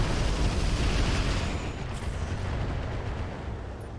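Missiles fire from mechs in RogueTech, a BattleTech video game: a loud, dense rush of launches and explosive rumbling that gradually eases toward the end.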